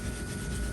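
Steel wool scrubs burned grease off a part of a 1950s Craftsman heavy duty drill under restoration, making a brief, continuous, close rasping rub.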